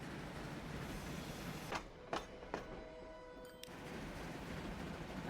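A grain train in Transport Fever 2 produces a soft, steady rolling rumble, broken by a few sharp clanks and a brief tonal squeal near the middle before the rumble returns.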